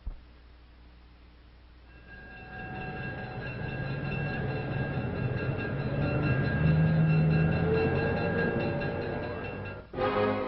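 A Monon train rumbles steadily along the tracks, a low continuous roar with faint high whining tones, growing louder partway through and then briefly dipping near the end.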